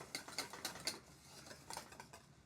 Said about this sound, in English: Stir it on until it melts.